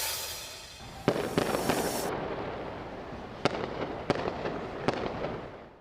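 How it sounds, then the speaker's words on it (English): Fireworks bursting over Washington, DC during an Emancipation Day celebration: a fairly distant crackle and boom, with a cluster of sharp reports early on and then three more spaced pops over a steady background rumble. "Fireworks going off in the district last night to celebrate Emancipation Day."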